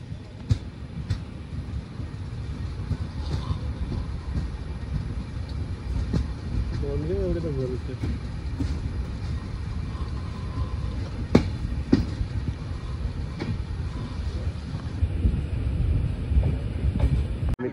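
A train rumbles steadily through the setting of Sindhudurg railway station, with continuous rail noise and occasional sharp clicks and clacks. A person speaks briefly over the noise.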